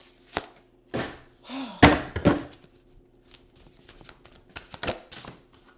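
Archangel oracle cards being handled and shuffled up close in a quiet room, with a few sharp taps and riffles followed by softer scattered rustling, no voices.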